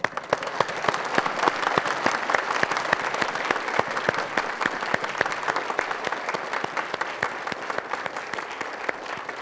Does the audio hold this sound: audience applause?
yes